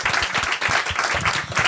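An audience at an evening talk claps together in dense, steady applause, a close and continuous patter of many hands with no voices over it.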